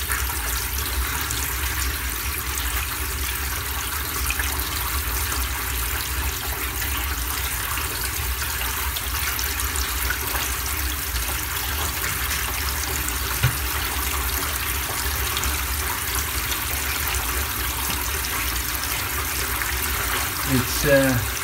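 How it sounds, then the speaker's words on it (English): Water runs steadily from a bath tap into a cracked bathtub, a continuous broadband rush that fills the whole stretch without pause. "yeah, it's starting to rise up now since we've turned on the tap. That water is coming back into that little pool."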